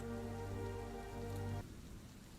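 A rain sound effect plays as a dense, steady hiss of rain on a surface alongside a low tonal hum. The hum cuts out partway through and the rain continues alone. No one speaks.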